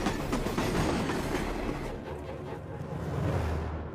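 Rajdhani Express passenger train rushing past close by, a loud, steady rumble of wheels and carriages that swells again toward the end, with no voices.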